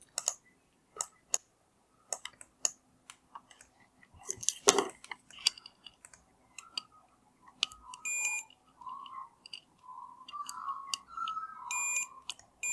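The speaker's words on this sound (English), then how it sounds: "I want to continuity check them between those 2 pins" Multimeter continuity checks on Gameboy solder joints: scattered sharp probe clicks, then a run of short electronic beeps repeating unevenly near the end, close and clear.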